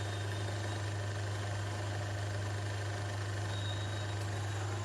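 A DC series motor runs steadily on a brake load test rig, a constant low electrical hum with even mechanical whir and no changes in pitch or level.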